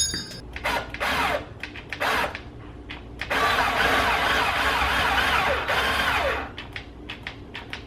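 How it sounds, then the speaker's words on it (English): A drill bores a pilot hole into a case for a DBX Drive Rack PA 2 build, with bursts of whining motor and grinding that rise into a sustained loud drilling run, then stop-start again, up close with no talk. "Let's get started on some drilling."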